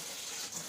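Tap water runs steadily as a head of cabbage is washed at a sink, a continuous moderately loud hiss of flowing water with a few small splashes and no voices.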